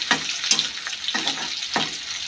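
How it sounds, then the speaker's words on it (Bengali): Onions frying in a pan in a home kitchen, giving a steady hiss and sizzle broken by a few sharp scrapes of stirring, close up and with no talking. "এই যে এখানে পেঁয়াজটা ভেজে নিচ্ছি"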